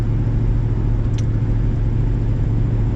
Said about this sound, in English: you guys just heard me do it, was banging gears in this damn car